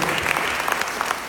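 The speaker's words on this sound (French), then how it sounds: "on peut les applaudir bien fort, les Amis du Chant, sous la présidence d'Henri Blanquart" Audience applause at a long-running singing competition in Roubaix, northern France: steady, dense clapping from a crowd filling the moment, close and fairly loud with no break.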